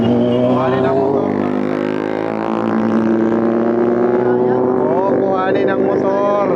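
Supermoto motorcycle engines run at a supermoto event in Bulacan. A loud, steady, rising and falling drone continues throughout, with people talking over it.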